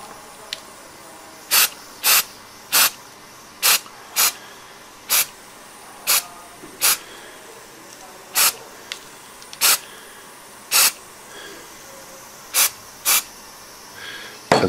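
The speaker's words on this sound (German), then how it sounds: "da muss ich das nächste Mal beim ersten Sprühstoß aufpassen, wo ich genau hinsprühe" A spray can applies paint to model tree branches in about fifteen short, sharp hissing bursts at uneven intervals, close and loud against a quiet room.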